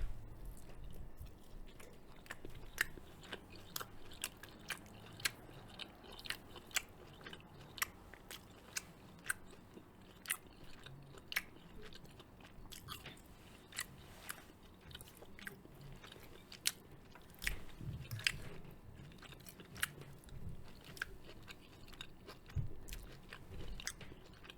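Close, crisp crunching and wet chewing of homemade cashew chicken, repeated bites and mouth sounds at an even pace for over twenty seconds in a quiet room, no talking.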